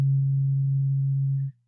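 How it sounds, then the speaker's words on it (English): A modular synthesizer oscillator produces a pure, loud sine-wave tone that holds one low pitch for about a second and a half, then cuts off abruptly. "versus a sine wave"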